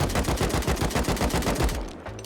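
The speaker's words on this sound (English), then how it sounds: "I'm going to do a little bit of shooting here" Automatic gunfire in the Rust video game, a rapid burst of loud, evenly spaced shots lasting about two seconds, then an abrupt stop into quiet.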